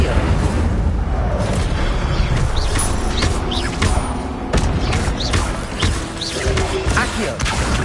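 Incendio fire spell blasts from the Hogwarts Legacy video game, dense booming whooshes and crackling impacts layered over constant combat noise, loud and steady with no pause.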